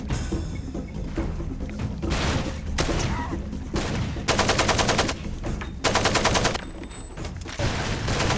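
Gunfire in the video game Far Cry 2: sustained automatic bursts and rapid fusillades crackle loudly and continuously, with thuds and dense chaotic combat noise throughout.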